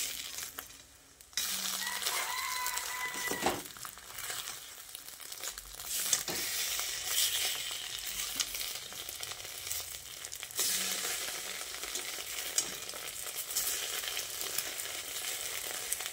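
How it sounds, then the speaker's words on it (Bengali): Small pieces of egg fry in a pan with a steady, close sizzle, interrupted by a few spatula scrapes and clinks as they are turned and stirred. "তারপর আরও একবার এইভাবে উল্টে পাল্টে ভালো করে ডিমটাকে ভেজে নিচ্ছি।"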